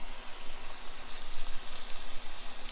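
Chorizo and onion frying in a pan, giving a steady, close hiss of sizzling fat with faint stirring scrapes and no voices.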